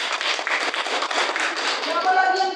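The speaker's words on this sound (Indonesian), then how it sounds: "Oke, tepuk tangan" A classroom of students claps together after a lesson on flat shapes, a dense, quick burst of hand claps that stays steady before fading into a sustained tone near the end.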